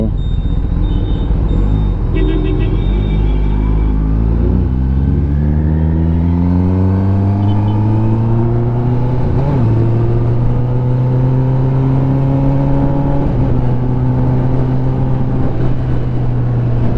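A Kawasaki ZX10R motorcycle engine drones steadily and loud while riding, its pitch climbing gradually as the bike accelerates, with a continuous close-up roar and no talk.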